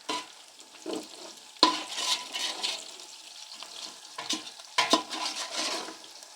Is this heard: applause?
no